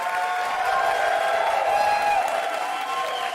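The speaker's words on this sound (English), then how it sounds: "And the crowd goes wild." A crowd cheers loudly and continuously, a dense roar of voices with applause mixed in and no pause throughout.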